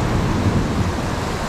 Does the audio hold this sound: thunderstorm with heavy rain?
yes